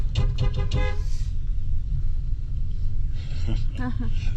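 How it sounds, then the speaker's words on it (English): A car horn toots in several short bursts close by on a street corner in Skagway, Alaska's historic district, then again after a pause, over engine rumble and voices. "We're going to honk at him"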